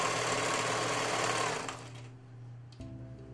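A sewing machine stitches across the top of an apron hem, turning the fabric under as it goes, with a close, steady whir that runs for about a second and a half, then stops, leaving a faint hum.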